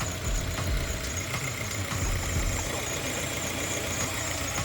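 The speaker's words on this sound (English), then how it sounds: "You do hear a squealing. I need to replace the belt tensioner." Subaru WRX engine idling steadily with a faint high belt squeal from a worn belt tensioner, a continuous close rumble with no talk.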